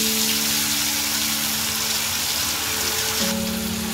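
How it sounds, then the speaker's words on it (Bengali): Ground spice paste hits hot oil, already fried with whole spices, while a Bengali katla fish curry is cooked. A loud, dense sizzle crackles continuously, with a faint steady hum underneath. "এবার আমরা বাটা মশলাটা দিয়ে দেব।"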